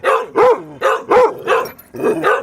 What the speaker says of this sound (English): Goofy dogs.